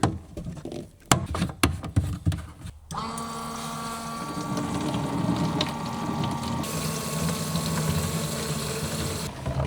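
Water runs through a leaking grey-water pipe in a camper van, beginning with a few mechanical clicks and knocks, then becoming a steady rushing flow that continues to the end.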